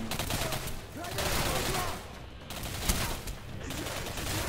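Rapid bursts of automatic gunfire and explosive shots in a team shooter video game with heavies, loud dense volleys that keep rolling, with players talking over the gameplay.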